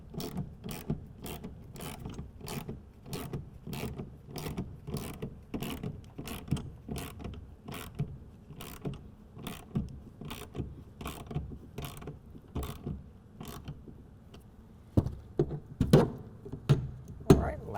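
Rapid, regular clicking of a 1/2-inch ratchet tightening clamp bolts on a Undercover Fusion tonneau cover on a 2023 Ford F-250, with a long run of even strokes followed by a few louder, uneven clacks near the end.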